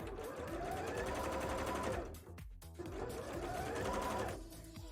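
Sewing machine topstitching a bra, running in two steady, close whirring bursts separated by a short pause, with no talking.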